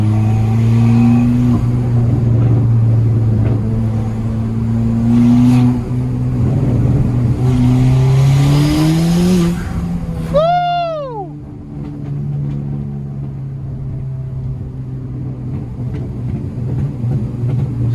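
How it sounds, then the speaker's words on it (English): A loud, tuned stage 3 Ford Fiesta ST engine drones and rises in pitch as it accelerates, then a whistling turbo spools up before the revs drop and build again. "You can hear that bit turbo building up."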